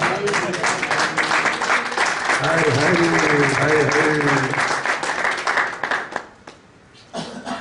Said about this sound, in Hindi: थोड़ा ताली बजाने के लिए हिम्मत है?